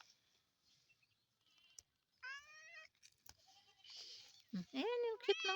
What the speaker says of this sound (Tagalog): Ayan, mga kambing namin.